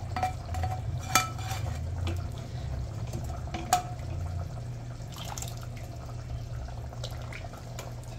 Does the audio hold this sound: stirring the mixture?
yes